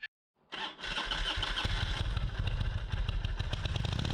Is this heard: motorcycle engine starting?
yes